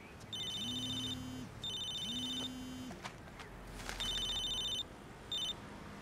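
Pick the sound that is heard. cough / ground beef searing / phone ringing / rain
phone ringing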